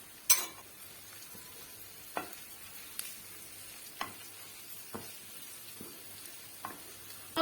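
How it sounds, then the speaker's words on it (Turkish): Rice and bulgur being stirred and sautéed with tomato paste and spices in a pan, a soft steady sizzle broken by occasional scraping spoon strokes, close and fairly quiet. "Karıştırıp kavurmaya devam ediyoruz."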